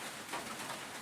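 Two pigeons give a soft, brief coo that sits quiet against a broad, hissy room background.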